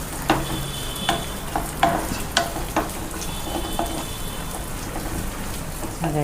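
Curry leaves with onion and green chillies frying in hot oil for an Andhra-style bitter gourd tomato curry, a steady crackling sizzle broken by sharp pops and stirring clatter, close and fairly loud with no talking.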